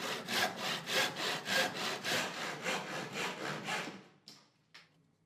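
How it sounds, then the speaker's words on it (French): A wooden towel rack upright is sawn to size at an angle with a hand saw, giving about a dozen steady rhythmic strokes close by, then the sawing stops and a few light knocks follow. "Puis nous scions le tout sur mesure sous le bon angle."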